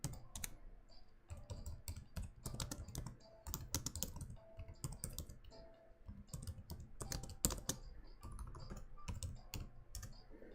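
A computer keyboard is typed on in quick irregular bursts of close, crisp clicks with brief pauses, and no one speaks.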